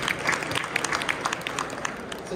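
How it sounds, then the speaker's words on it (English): A plenary audience at a space and arts conference applauds, a moderate, fairly distant patter of clapping from many people that continues steadily through the short moment. "Another round of applause for that."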